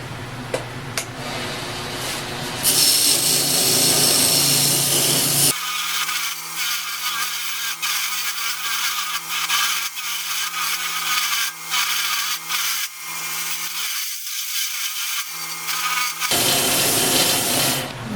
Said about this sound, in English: run it over the mop sander, see if we can smooth out some of the rough edges here